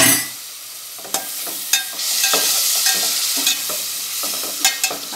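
Minced meat keema frying in a hot pan with ginger and garlic, a steady sizzle broken by repeated scraping clicks of a spoon stirring, close and fairly loud with no talking.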